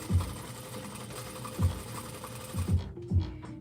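A sewing machine stitches fabric for a girl's dress in quiet, close bursts of rapid mechanical whirring, with short pauses between runs and a soft stop near the end.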